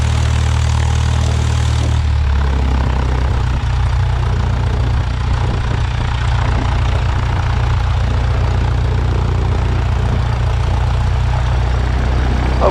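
A light aircraft engine running steadily at low, gentle throttle while taxiing out downwind and downhill for IFR training, a loud continuous drone heard close up throughout.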